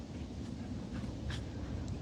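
A dog named Winston panting softly and rhythmically after play on a morning outing, with steady outdoor background noise and a faint whimper-like squeak near the end.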